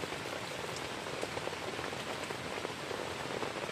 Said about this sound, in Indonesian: Kita masak ini di dalam tenda tertutup karena di luar hujan, anginnya kencang, air hujannya masuk kalau nggak ditutup.